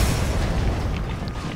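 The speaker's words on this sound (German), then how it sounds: "können wir mal das Auto explodieren" A car blows up in the shooter game Hard Reset, a dense, loud roaring blast that rumbles on steadily with no pause.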